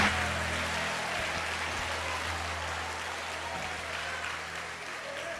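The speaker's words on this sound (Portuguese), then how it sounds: "E tome o seu assento aplaudindo a Jesus, porque Ele é bom" A church congregation applauds during a sermon, a dense, continuous wash of clapping from many people filling the hall, fairly loud and sustained with a faint low hum beneath.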